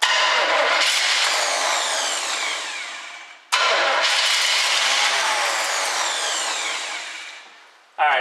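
A 1967 Chevy Camaro V8 cranks and catches, running rough and loud close by before sagging and dying, then fires again and fades out once more, starved of fuel, with a last restart at the end.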